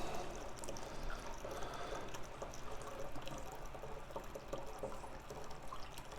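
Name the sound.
water pouring through a funnel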